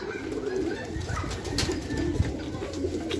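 Racing pigeons coo in low, soft repeated murmurs over a steady background rumble, with occasional faint chirps.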